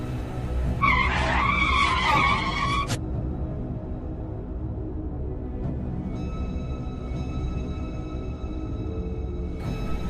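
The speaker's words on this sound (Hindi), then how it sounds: "वो जगह आते ही गुल्ली बुल्ली की गाड़ी बंद हो जाती है" A cartoon car skids to a halt with a loud, brief tire squeal over a steady engine drone. It then idles on alone in a deserted, ruined place.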